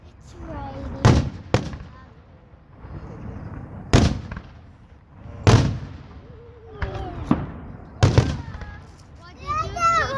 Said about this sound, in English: Oh, it's raining fireworks.